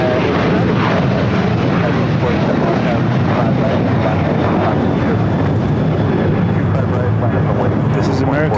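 An American Airlines 15-year-old Boeing 737-800 taking off at LAX: a loud, steady jet roar filling the whole stretch, with a voice talking over it.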